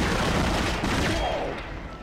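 Dense pulse rifle fire in the sci-fi horror video game Dead Space, a loud, continuous rattling stream of shots that fills the whole moment and tapers slightly at the end.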